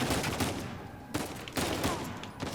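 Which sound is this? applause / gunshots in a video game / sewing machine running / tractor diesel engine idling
gunshots in a video game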